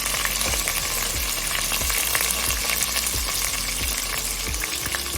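Whole spices, bay leaf, black cardamom and clove pieces, fry in hot oil in a pot, giving a steady loud sizzle with faint stirring scrapes throughout and no talking.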